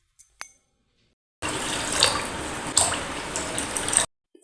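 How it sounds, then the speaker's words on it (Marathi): Four cups of water pour steadily into a pot of washed rice and moong dal, a continuous splashing rush of about two and a half seconds after a couple of faint clicks, close and fairly loud, with no talk. "आता आपण याच्यामध्ये 4 कप इतकं पाणी टाकून घ्यायचं आहे"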